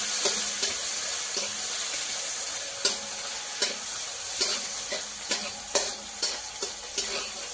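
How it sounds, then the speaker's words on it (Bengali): Onion and garlic frying in a pan for a fish and greens dish, a steady close sizzle with repeated scraping and stirring clicks throughout, no voices. "পেঁয়াজটা একটু ভালো করে ভাজিয়ে দিলে তারপরে শাক দিলাম।"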